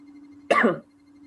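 One short, sharp cough close by, standing alone against a faint steady hum.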